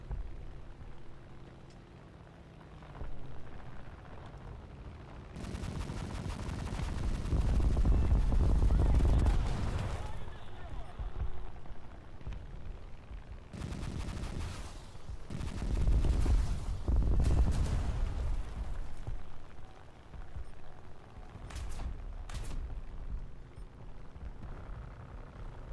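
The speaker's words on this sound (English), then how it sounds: "let's drop the bomb here" In War Thunder, a bomb drops and explodes amid battle noise: a heavy, booming blast swells over several seconds and then returns in further bursts, laid over rattling gunfire and engine drone, with a voice talking at times.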